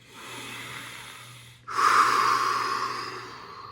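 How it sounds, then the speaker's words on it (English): Deep breathing during a yoga meditation session: a long, soft inhale through the nose, a brief pause, then a stronger, breathy exhale that slowly fades, close and alone. "as we engage in our meditation after these nice 10 deep breaths"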